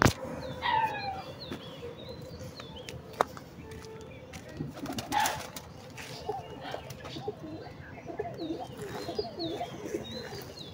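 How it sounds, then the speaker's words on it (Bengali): Pigeons from five or six pairs kept in a small coop coo softly and repeatedly at a daily feeding spot, with a few brighter bird chirps and faint background voices throughout. "পাঁচ ছয় জোড়া কবুতর আছে আমাদের এখানে"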